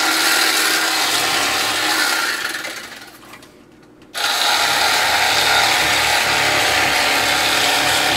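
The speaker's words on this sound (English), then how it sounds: "I'm going to run this knife right along the spine" A knife blade runs along the spine of a red drum fish during filleting, making a close, continuous scraping rasp that fades briefly around the middle and then resumes steadily.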